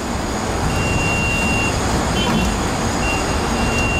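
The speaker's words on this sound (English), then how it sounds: "nozzle replaced, it should stop beeping at us" A hydrogen fuel pump fueling a Toyota Mirai emits a steady high electronic beep intermittently over a constant low mechanical hum and outdoor rumble.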